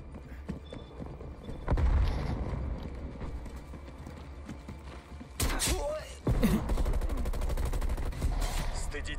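Call of Duty Cold War gunfire: bursts of automatic shots, loud and sharp, cutting through the game ambience in two clusters, with radio chatter and a voice around them.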